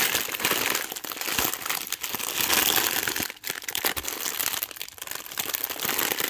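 A plastic bag holding Digimon figures being handled, with continuous close crinkling and crumpling of thin plastic that rises and dips in bursts.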